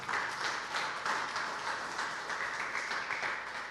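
A church congregation applauds steadily during a sermon, a dense wash of clapping hands that continues at an even level throughout.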